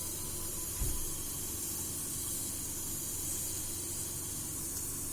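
A pressure cooker full of tamarind rice, switched off after three or four whistles, lets out a steady, even hiss of escaping steam, broken by a brief low thump near the start.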